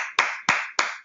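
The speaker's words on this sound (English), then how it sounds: "let's give Greg a virtual applause" Virtual applause: three sharp, evenly spaced claps, each ending in a ringing decay, loud and close with no voices.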